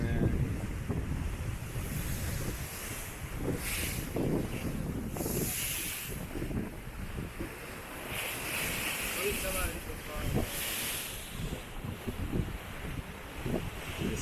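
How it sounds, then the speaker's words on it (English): Rough ocean waves surge and wash against a dock at Zanzibar, a continuous roar of surf with gusty wind buffeting the microphone and faint voices in the background. "See these waves? That's some rough waves."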